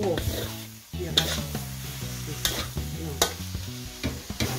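Wild boar stir-fried with red curry paste sizzles close by in a pan, with repeated scraping and clanking strokes of a spatula against the metal at an irregular rhythm.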